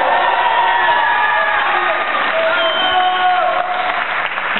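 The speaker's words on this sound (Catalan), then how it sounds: "Un aplaudiment." A crowd applauds steadily and loudly throughout, dense clapping with a few scattered cheers mixed in.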